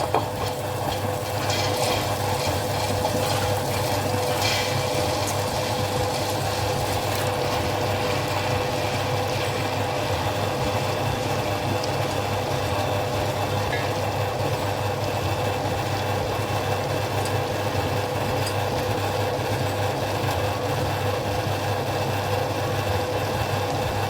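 Wet grinder churning soaked urad dal and rice for Mapillai Samba idli and dosa batter, a steady loud mechanical drone with a constant low hum and rumble running unbroken throughout, no voices.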